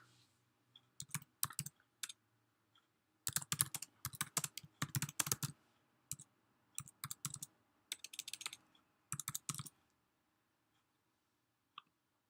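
Quiet keyboard typing comes in scattered clusters of quick clicks separated by pauses, nearby and soft, ending with a single stray keystroke after a silence.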